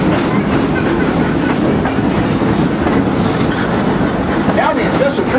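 A heritage excursion train on the Frisco Silver Dollar Line rumbles and clatters loudly and continuously along the rails, heard from on board, with a faint voice underneath.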